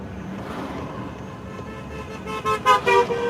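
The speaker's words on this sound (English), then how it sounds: "People driving by honking." Cars pass during a street parade in downtown Edinburgh, Indiana, traffic droning before several loud horn blasts in quick succession close by.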